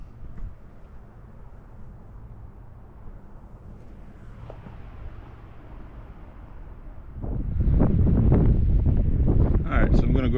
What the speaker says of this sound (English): if you can't hear me that well, I apologize about the wind